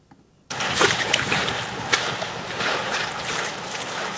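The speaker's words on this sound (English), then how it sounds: "ocean is a bit louder, and also the footsteps are a bit more water sound" Generated audio: sloshing water and splashy footsteps begin suddenly after a brief quiet and continue steadily, with a broad ocean-wave wash underneath.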